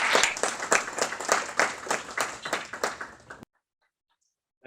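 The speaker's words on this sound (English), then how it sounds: "Could we please get one more round of applause for our two speakers?" Audience applause for two speakers at the close of a moderated discussion event, a steady round of clapping from a modest crowd that stops abruptly after about three and a half seconds, leaving near silence.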